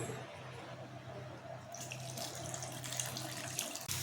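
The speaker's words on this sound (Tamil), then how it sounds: "இப்போ புளியை கரைச்சி ஊற்றணும்" Dissolved tamarind water poured into a pot of mango and bone sambar, a steady liquid trickle and splash that grows brighter partway through, continuous and close with no talking.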